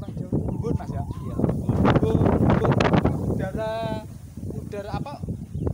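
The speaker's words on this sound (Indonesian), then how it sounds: "angin yang luar biasa ini, kadang angin sangat kencang" Strong coastal wind beside seaside melon fields on a beach buffets the microphone as a constant rushing rumble, heard underneath people conversing.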